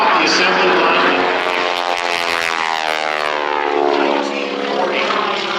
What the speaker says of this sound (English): A wing over at Air Show right, and we're going to tell you a little bit more about the aircraft that Vicki is flying